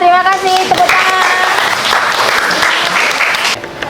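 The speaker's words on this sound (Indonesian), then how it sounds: "Terima kasih, tepuk tangan." A classroom audience bursts into steady, loud applause right after a brief spoken line, the clapping dense and sustained for a few seconds before cutting off abruptly.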